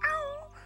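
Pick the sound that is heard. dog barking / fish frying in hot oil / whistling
dog barking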